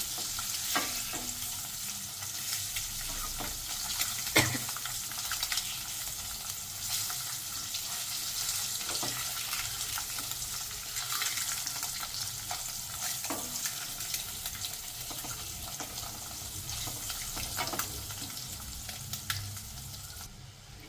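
Egg sizzles and fries steadily in a kadai for a crunchy capsicum egg fry, with occasional stirring scrapes and clinks cutting through a constant close hiss.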